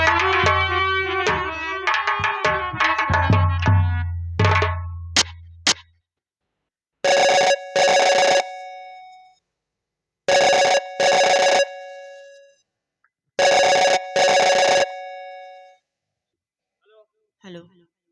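A telephone rings for an incoming call in a Hindi comic stage drama, four loud two-tone ring bursts with silent gaps between them, following an opening stretch of other tonal, musical sound.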